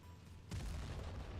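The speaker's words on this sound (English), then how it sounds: "And there he goes with a big explosion" A tank blowing up in World of Tanks Blitz, a sudden deep boom that breaks in after a quiet moment and rumbles on loudly to the end.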